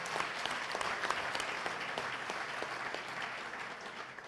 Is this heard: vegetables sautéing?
no